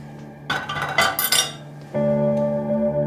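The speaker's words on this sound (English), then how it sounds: "He watches as she scrubs the dishes furiously." Dishes are scrubbed furiously in a sink, with a quick flurry of clinking cutlery and crockery amid a steady tonal hum, followed by a sustained musical drone.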